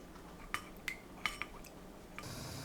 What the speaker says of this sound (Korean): 진간장 3큰술, 미림 3큰술, 올리고당 1큰술, 굴소스 1큰술 넣고 섞어서 양념을 만들어요.